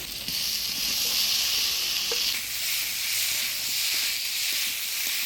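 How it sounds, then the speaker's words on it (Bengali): Potatoes and cauliflower fry in a pan with a ground paste of ginger, cumin, chili, turmeric and salt, giving a steady, close sizzling hiss that holds throughout with a few faint stirring scrapes and no talking. "আলু ফুলকপিটা মশলার সাথে ভালো করে কষিয়ে নিলাম"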